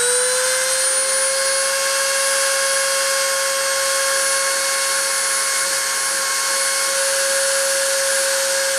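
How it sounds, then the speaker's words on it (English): A spindle motor running steadily during a deposition process at 0.125 millimeter layers, a constant high-pitched whine with a steady tonal hum, loud and unbroken throughout with no talking. "I'm going to turn the spindle on and go ahead and start the deposition"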